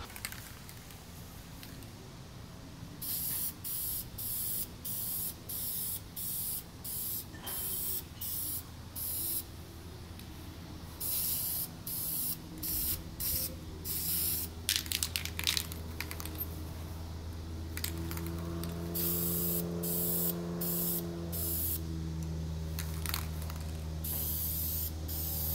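Aerosol can spraying paint onto Audi S3 brake calipers outdoors in the sun, in a series of short repeated bursts with brief gaps, close and fairly loud over a low steady background hum.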